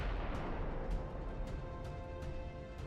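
Naval gunfire from battleships in the video game Ultimate Admiral Dreadnoughts, a series of distant sharp reports at irregular intervals over a low rumbling background, fairly faint overall.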